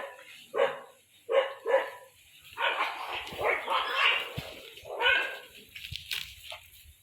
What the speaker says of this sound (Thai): เห่ากันเต็มเลยน้องหมานี่